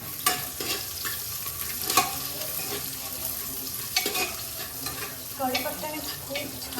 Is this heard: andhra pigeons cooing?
no